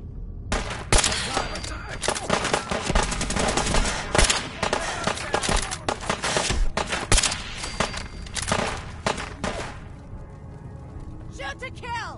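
Rapid automatic gunfire in Fallout 4 on survival mode, a dense sustained barrage of loud overlapping shots that fades near the end, with game voices shouting over it.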